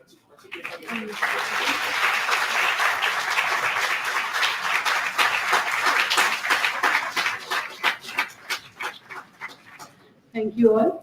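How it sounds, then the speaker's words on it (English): Sustained audience applause at a national scientific conference, a dense crowd clapping for about nine seconds before fading, followed by a short burst of speech at the end. "I do expect a big round of applause."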